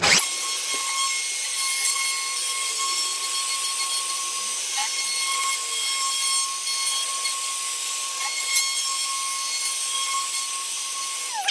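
A plunge router cuts into a guitar body with a steady high-pitched whine that holds for the whole stretch, with small bumps in tone as it moves through the wood.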